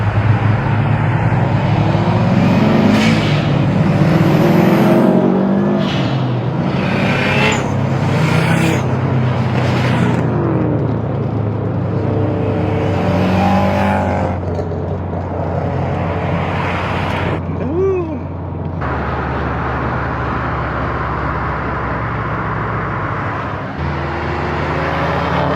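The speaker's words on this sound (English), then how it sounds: "Oh, the boxer rumble." Subaru boxer engines from a Cars & Coffee meet, turbo STI and WRX, give a loud, steady low rumble as the cars roll out, holding continuously with slight swells and drops in intensity.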